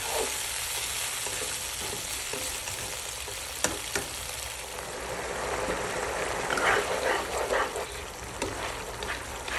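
Bangus in tausi sauce with added water bubbles and sizzles in a pan, a steady close crackling simmer that grows busier toward the end, with occasional clinks.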